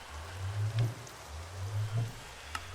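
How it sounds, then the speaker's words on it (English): Steady rain falls in the video game Minecraft, a soft continuous hiss with a few faint drip-like ticks, low rumbling tones swelling underneath, no talking. "Why does it have to rain?"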